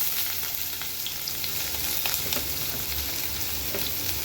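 Finely chopped onions go into hot oil already holding popped mustard seeds and curry leaves, giving a steady, loud, close sizzle and crackle with faint stirring and no talking.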